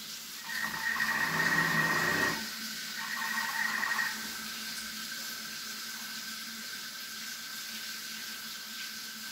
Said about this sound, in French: Et je vais rincer, bien sûr, mon riz à l'eau froide.